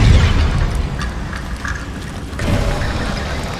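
A Bombarda spell explodes in the video game Hogwarts Legacy, a loud close booming blast that rumbles and fades, followed by a second lower surge of rumble.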